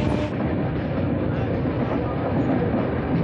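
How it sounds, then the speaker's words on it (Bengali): The Howrah–Mumbai Mail, train 12810, races along at about 100 km/h, making a continuous loud rumble and rattle of wheels on track, heard close from on board without a break. "ট্রেন ছুটে চলেছে প্রায় 100 কিলোমিটার বেগে ছুটে চলেছে"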